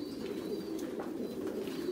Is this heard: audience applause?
no